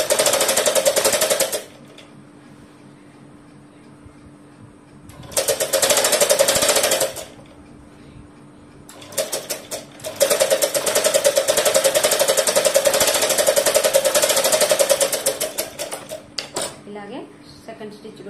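A sewing machine stitches a long frock made from an old saree in three loud, close bursts of rapid whirring clatter, short, short and then long, separated by quiet pauses.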